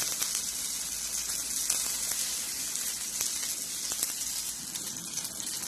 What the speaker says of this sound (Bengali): মাঝখানে কয়েক কোয়া রসুন আমি দিয়ে দেবো। এগুলোকে ভালো করে ভাজবো।